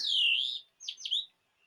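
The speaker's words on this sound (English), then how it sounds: "you sense how the blackbird is not alone, but there are other birds in the grove too" Birdsong in a grove, with a blackbird among other birds: a long warbling phrase, a pause, then two shorter bright chirping bursts, fairly close and clear against a quiet background.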